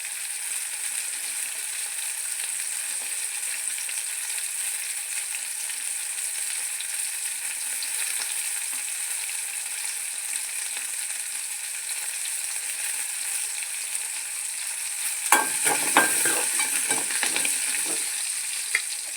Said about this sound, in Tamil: ஃப்ரை பண்ணி ஒரு 2 நிமிஷம் இந்த வரமிளகாய் அப்படியே விட்டுடலாம்